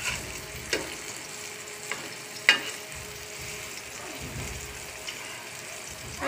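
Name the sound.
eggplant (brinjal) frying in a pan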